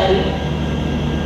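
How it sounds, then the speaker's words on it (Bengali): The 12278 Puri–Howrah Shatabdi Express, an old-coach train, pulls out of Puri station right on time in the early morning, giving a steady, loud rolling rumble heard from on board. "12278 পুরী হাওড়া শতাব্দী এক্সপ্রেস নির্দিষ্ট টাইমেই পুরী থেকে ছেড়ে দিল।"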